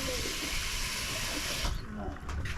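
Water runs steadily from a tap into a container of potatoes being readied for the microwave at an Australian campsite, a constant splashing hiss that fades and turns patchy toward the end.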